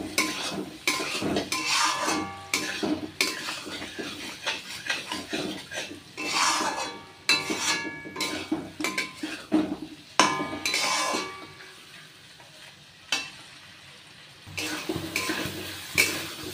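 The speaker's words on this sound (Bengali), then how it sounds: "আলু ভাজাগুলো দিয়ে ভালোভাবে আলুর সঙ্গে আরও একটু 2 থেকে 3 মিনিট কষাবো" A spoon scrapes and clatters against a pan while fried potatoes are stirred and sautéed, in repeated sharp clinks and knocks with brief quiet gaps and a faint sizzle underneath.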